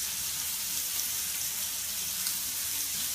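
Greens and potato frying in a pan, a steady bright hiss and crackle of sizzling oil that holds evenly throughout, close and moderately loud with no voices.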